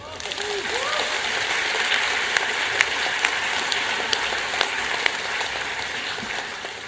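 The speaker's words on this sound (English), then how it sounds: "So a round of applause for the largest middle class population in China." An audience at a lecture on ASEAN breaks into sustained applause, a thick, even patter of many hands that stays level throughout, with a brief voice audible at the start.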